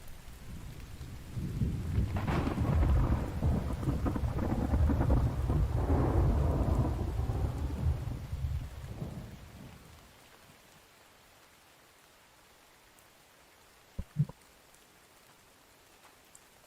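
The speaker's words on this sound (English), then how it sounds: "Like the thunder and lightning, you guys heard that just now." Thunder rumbles with steady rain in The Infected video game, a loud broad roar swelling for about eight seconds then fading to quiet, with a brief sharp knock near the end.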